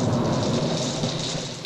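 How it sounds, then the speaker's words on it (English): Thunderstorm sound effect in a radio ad: steady heavy rain with a low rumbling thunder roll, loud and continuous with no voices. "Come in from the storm."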